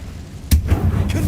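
Incendio fire spell cast in the video game Hogwarts Legacy, a sharp whooshing burst with a heavy thump, followed by a rumbling flare-up and a fainter second hit about half a second later.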